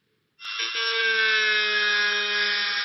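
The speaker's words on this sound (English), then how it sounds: "It's a drill." A drill bores into a shell, a steady high-pitched whine starting abruptly and holding constant for about two and a half seconds, loud and close with no voices over it.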